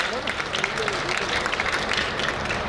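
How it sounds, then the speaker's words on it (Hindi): A crowd at a BJP political rally applauds loudly in welcome of an honoured guest, a dense steady wash of clapping with cheers and babble running through the whole stretch. "एक बार जोरदार तालियों के साथ माननीय भूपेंद्र जी का स्वागत और अभिनंदन करिए"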